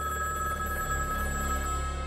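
A telephone bell ringing steadily and fairly loud, a continuous electronic ring with no talk over it, heard at home.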